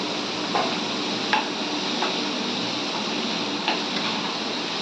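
Onion and tomato with curry leaves sautéing in a pan for fish kuzhambu, a steady soft sizzle with a few faint clicks of a spatula, no talking.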